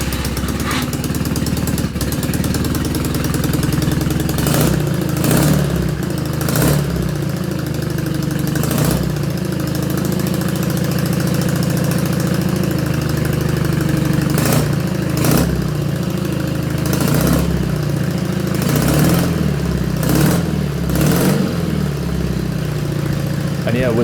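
A custom BMW R80 motorcycle engine idles steadily just after its ignition has been wired up, an even low burble running throughout with occasional sharp clanks and knocks on top.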